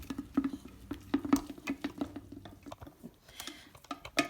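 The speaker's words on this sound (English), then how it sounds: "And now we're going to stir." Sourdough starter stirred with warm water inside a jar, heard as close, wet sloshing and scraping strokes with irregular clicks from the utensil against the glass, moderately quiet, with no talking.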